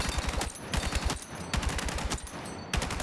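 Automatic weapon fire in the video game Battlefield 6 as a magazine is emptied, with loud, rapid, evenly spaced shots in several sustained bursts and short gaps between them, close and dominant with no talk.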